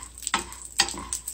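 Mealworms fry in canola oil with salt while being stirred in a pan, close scraping stir strokes cutting through a continuous crackling sizzle.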